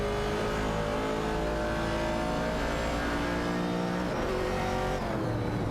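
Racing-game cars, among them a Ford Mustang Boss and a 1974 Pontiac Firebird, roar loudly and continuously as engines rev and shift in a close pack.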